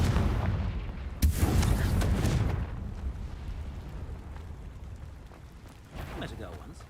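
A Confringo blasting curse explodes in Hogwarts Legacy with a sharp crack followed by a deep rolling boom that decays slowly, then a smaller burst near the end, loud and close.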